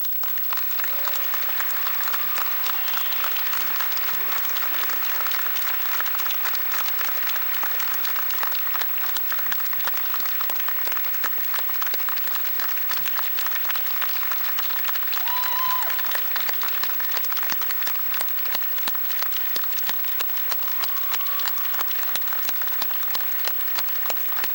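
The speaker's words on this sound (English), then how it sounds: "Please join me in extending just one more round of applause" Sustained applause from a large commencement audience at a fall university graduation ceremony, a dense steady roar of many hands clapping that holds evenly throughout with no talk over it.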